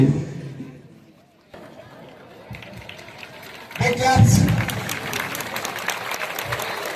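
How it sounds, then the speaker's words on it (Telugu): Audience applause breaks out at the opening ceremony of a school division-level sports meet, swelling from a quiet start into sustained, fairly loud clapping from a crowd with murmuring voices mixed in. "ప్రతి కార్యక్రమానికి క్లాప్స్ మీ యొక్క ఆనందం తెలపాలి"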